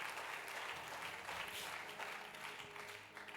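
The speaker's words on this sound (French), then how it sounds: "Est-ce qu'on peut encore acclamer le Seigneur?" A church congregation applauds continuously, a dense, steady wash of clapping hands filling the room for the full stretch without a break.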